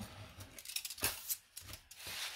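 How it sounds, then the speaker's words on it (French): Several crisp cuts from a corner cutter trimming the four corners of a cardboard sheet for an advent calendar, a series of sharp snips and scrapes at close range. "Et là, on vient découper"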